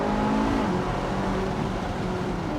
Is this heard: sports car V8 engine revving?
yes